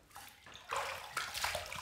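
Water splashes and runs in a bathroom sink as a Vikings Blade Emperor adjustable safety razor is rinsed, a short close burst of sloshing.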